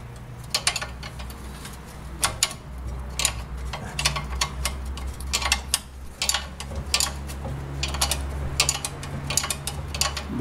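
A ratchet wrench clicks in rhythmic, repeated strokes as it tightens car suspension bolts during a hub and steering knuckle replacement, close and moderately loud over a low steady background hum.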